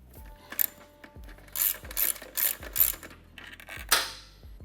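A hand ratchet works on a bolt on a Honda CT90 Trail 90, giving several short bursts of crisp clicking with pauses between strokes, close up and with no talk.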